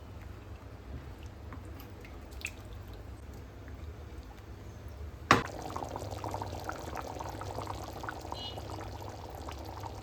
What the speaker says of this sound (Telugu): కొంచెం అంత వాటర్ కూడా యాడ్ చేసేసుకునేసి మూత పెట్టుకొని సిమ్‌లో కుక్ చేసుకోవాలి